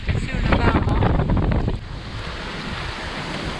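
A heavy rush of water splashes and washes across a sailboat deck on the Ionian Sea amid strong wind noise, then subsides into a lighter hiss of wind and sea.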